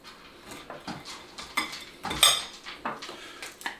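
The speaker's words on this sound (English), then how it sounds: "Put on some of this lovely tofu spread." A knife spreads tofu-based vegan cream cheese across a piece of toast, a close series of short scraping strokes and light clinks against the plate, irregular and fairly quiet.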